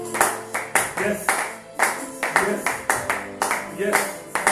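A church congregation claps in steady repeated bursts of acclamation, the applause rising and falling in waves with voices mixed in under it.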